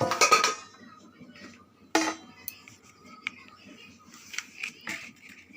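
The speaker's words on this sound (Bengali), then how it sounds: "এখন আমি চালনিতে চেলে নেব" Ground roasted chickpea flour is sifted through a sieve for chhatu, close up: a scraping rattle at the start and another around two seconds, then scattered light clinks and taps.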